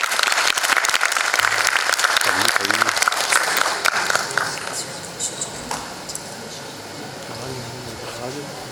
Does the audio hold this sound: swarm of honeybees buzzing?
no